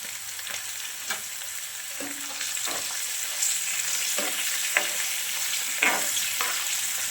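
Garlic and turmeric cooking in oil over a low flame for a garlic pickle, a steady close sizzle broken by occasional scrapes and stirring taps.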